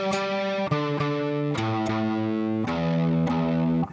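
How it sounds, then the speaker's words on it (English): An electric guitar played through distortion is tuned, with repeated single plucked notes ringing out and sustaining, each new pluck cutting in at a steady pace, loud and close with no talking. "Let's start with a guitar part here, and I want to make sure this thing's in tune."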